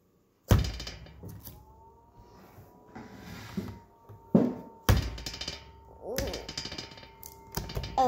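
A Wal-Mart fidget toy gives sharp clicks and metallic rattles in several separate bursts with quiet gaps between them, handled up close.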